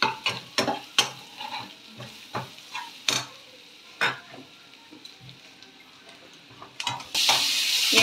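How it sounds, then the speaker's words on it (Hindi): Mixed vegetables with garam masala, coriander powder and salt stirred in a pan, a series of close spatula scrapes and taps over a quiet sizzle, followed by a rush of louder frying. "अभी हमें इसे हलाते रहना है।"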